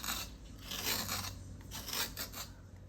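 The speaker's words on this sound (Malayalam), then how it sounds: "ഈ പടവലങ്ങ നമുക്ക് കട്ട് ചെയ്യണം. ഇതിൻ്റെ തൊലി ഇങ്ങനെ വരണ്ടി കളയാം." A knife rasps repeatedly across a snake gourd as its skin is scraped off, giving close, rhythmic strokes that continue steadily without any talk.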